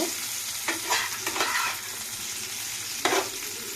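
Potato pieces and fish fry in hot oil with chopped onion, giving a steady close sizzle broken by several louder scraping stirs of a spatula in the pan.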